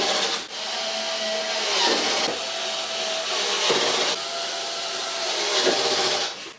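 Power drill with torque set low driving screws into the mount of a Philips 499P9H 49-inch super ultrawide monitor, heard as a loud, close whirring grind in several bursts separated by brief pauses, with no talking.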